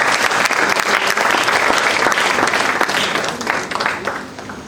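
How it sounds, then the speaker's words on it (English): Audience applause at a national moot competition event, honouring book sponsors: loud, dense clapping from a crowd that is sustained for several seconds and then gradually tapers. "Please, a round of applause for them."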